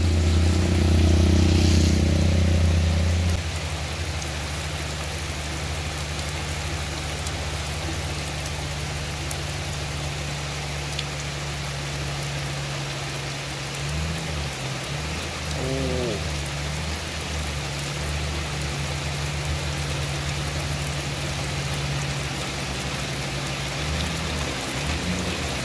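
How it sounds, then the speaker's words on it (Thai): Steady rain hisses all around while riding a motorcycle on a wet road, a broad constant wash of noise with a low engine hum underneath and a brief louder burst at the start. "ฝนตกมาน้ำไหล"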